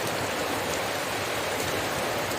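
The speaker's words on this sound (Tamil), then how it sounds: "இப்போ பாருங்க தெரியுதா மழை எப்படி வருது பார்த்தீங்களா?" Heavy rain pours steadily during a truck journey in West Bengal, a dense unbroken hiss of water on surfaces, close and loud throughout with no talking.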